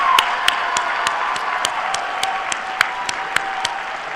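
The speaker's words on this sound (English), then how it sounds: "Let's give them a round of applause." An audience claps at a university commencement ceremony, with a broad wash of applause punctuated by sharp, distinct individual claps, fairly close and moderately loud throughout.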